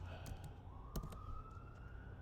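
Emergency sirens going off outside at night, a faint, steady wailing tone rising slowly and holding, heard distantly under indoor clicks and room noise.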